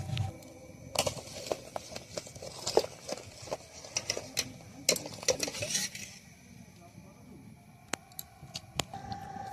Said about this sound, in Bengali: এই দেখো রস জাল দিচ্ছি, এই দেখো, এই দেখো চাল দিচ্ছি, পায়েস করবো